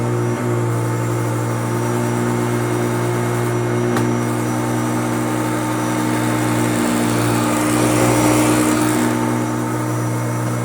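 A restored Hoover Turbopower U2724 upright vacuum cleaner runs on a heavy carpet with a loud, steady motor drone and a constant tonal hum, alone and unbroken for the whole stretch.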